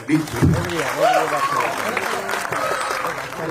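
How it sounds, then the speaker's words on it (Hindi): An audience claps at a film trailer launch event, the applause rising briefly while a voice and some tonal sounds run over it before the clapping thins out. "इनके लिए तालियां बजाइए"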